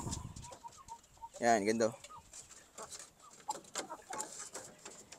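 Breeder hens in a backyard gamefowl yard give a few short clucks and calls, one louder burst in the middle, while someone talks nearby.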